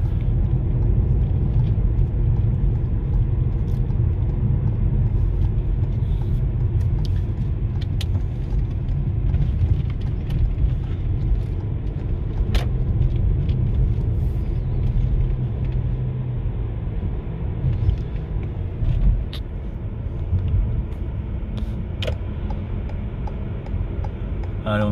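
Steady low engine and road rumble from inside a Toyota C-HR hybrid car on the move, constant and close, with faint ticking clicks scattered over it and no one talking.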